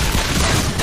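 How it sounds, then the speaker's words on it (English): A turret being destroyed in the Mobile Legends video game, heard as a dense, loud burst of booming, crackling impact noise that fills the whole short moment. "Your team destroyed a turret."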